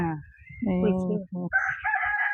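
A rooster on a farm crows loudly and up close, one long harmonic cock-a-doodle-doo with a short break partway through, followed by higher clucking or calling from fowl nearby.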